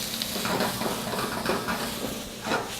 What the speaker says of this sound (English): you can flip the meat around and get it browned very quickly